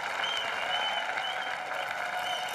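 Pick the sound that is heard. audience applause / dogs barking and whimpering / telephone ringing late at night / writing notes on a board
audience applause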